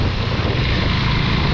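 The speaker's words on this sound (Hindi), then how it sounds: "चेक दिस आउट गाइस, खूबसूरत सा वाटरफॉल" A monsoon-season waterfall in Darjeeling roars loudly and steadily from close by, a dense, unbroken rush of falling water with no voices.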